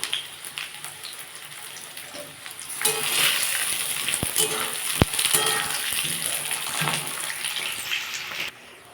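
Raw onions frying in spiced paste in a pan for a Bengali egg curry with new potatoes, a steady close sizzle that swells louder partway through, with a few sharp clinks of a stirring spoon.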